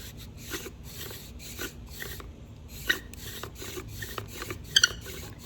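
A wooden friction fire drill spins against a soft wood board outdoors, giving a steady run of faint rasping, rubbing strokes in a regular back-and-forth rhythm with a few brief squeaky peaks.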